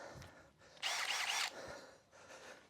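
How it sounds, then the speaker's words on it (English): A Milwaukee drill fitted with a DeWalt spade bit bores through timber in one loud, harsh burst of under a second, with quieter tool noise before and after it. "I'll set up the Milwaukee drill, which we specifically bought for this task."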